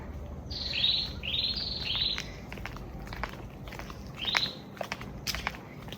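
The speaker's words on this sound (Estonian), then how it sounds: "issand, kui suured linnud seal on." Large birds call at a seaside resort on Koh Samui, Thailand: a few sharp, high chirps come in short bursts at moderate distance, with soft footsteps on a path and no one speaking.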